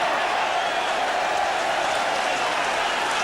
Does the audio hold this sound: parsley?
no